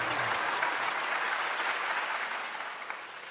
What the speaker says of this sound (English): We put the clapping audience in at the end there